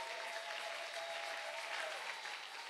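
A congregation applauding to acclaim Jesus Christ at a French-language church service, a steady, even wash of clapping from many hands throughout.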